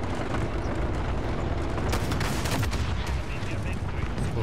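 Dense gunfire from a Call of Duty: Modern Warfare match, a continuous loud barrage of overlapping shots and rumbling impacts with sharper bursts near the middle.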